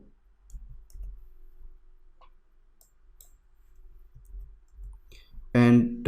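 Soft, sparse mouse clicks tick through a quiet room during 3ds Max modelling work, some single and some in quick pairs, with a short burst of speech at the end.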